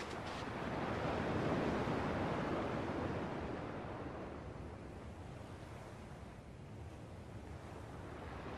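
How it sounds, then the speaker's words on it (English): Ocean waves from the video game Kingdom Hearts 2.5 wash in a steady, broad roar of surf, swelling early and then easing to a constant rush with wind-like hiss, heard alone without voices. "At least the waves sound the same."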